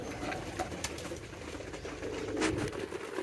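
Pigeons kept in a loft coo in low, soft murmurs over steady background noise, with a few brighter rustling bursts; no talking is heard.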